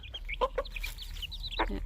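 A backyard hen clucks in short, soft bursts, several quick calls close by, with other faint chirps from chicks or birds around her and no talking.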